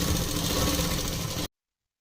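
Running steadily and fast, a sewing machine double stitches a seam on ladies' trousers, a continuous close whirring hum that cuts off abruptly after about one and a half seconds.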